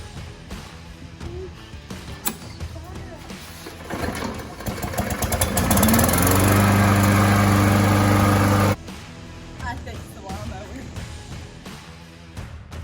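A Briggs & Stratton E-Series push mower engine that had trouble starting after sitting cranks a few times, then catches and runs loudly and steadily for a few seconds before cutting off abruptly. Quieter background sounds follow.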